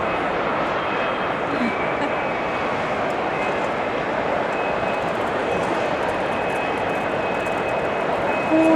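A steady, loud broadband roar of an airplane at Suvarnabhumi Airport runs unbroken and close throughout, its level rising slightly at the very end.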